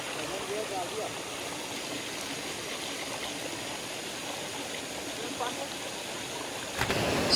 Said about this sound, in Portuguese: Chegando na cachoeira do Lajeadão.